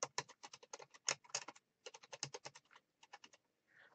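Quick, crisp typing on a computer keyboard, a steady run of close, distinct keystrokes with one short pause midway, sounding alone in a quiet room.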